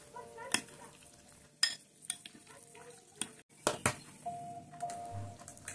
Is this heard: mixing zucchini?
yes